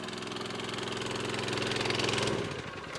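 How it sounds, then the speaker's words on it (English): A Honda motor drives a plumbed-in Davey twin impeller fire pump on a dual-axle fire trailer, running at a steady, close, loud drone with a constant vibrating rumble that eases slightly near the end. "a plumbed in Davey twin impeller fire pump driven by a reliable Honda motor"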